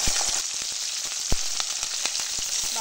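Green chillies drop into well-heated oil in a village kitchen, where bottle gourd and fresh snakehead fish are being cooked, setting off a continuous sizzle dotted with sharp crackling pops, close and alone.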